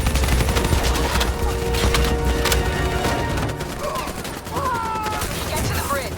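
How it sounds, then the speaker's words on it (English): Gunfire in a first-person shooter firefight, a steady, loud stream of overlapping shots and impacts with splintering cracks, and game voices call out through the mix. "Give me some cover fire."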